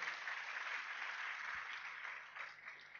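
An audience applauding for Iwan Setiawan from Cirebon at an indoor seminar event, a steady wash of clapping from many hands that holds evenly and swells slightly near the end, heard from some distance.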